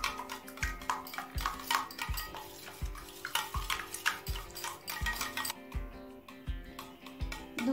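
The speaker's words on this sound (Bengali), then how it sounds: "দুধটা দিয়ে আরও একবার মিশিয়ে নিলাম।" Beaten egg and milk being whisked together for a gram flour (besan) sponge cake batter, a steady rhythmic clinking of a whisk or spoon against a bowl with liquid sloshing, close and fairly loud, no talk.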